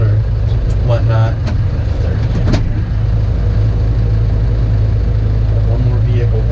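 A vehicle moves along a snowy road in northwest Pennsylvania as a steady low engine rumble, with a few brief voice fragments early on.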